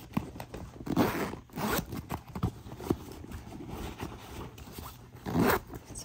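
A zipper on a pink Tory Burch Fleming bag's pocket rasps open in several quick pulls, close and fairly loud, with light rustling and scraping of fabric between strokes.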